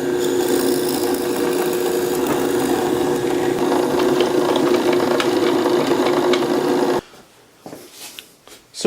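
A belt sander shapes a large wooden dowel held in a homemade 2x8 jig, grinding loudly and continuously for about seven seconds before winding down, leaving faint knocks and room noise.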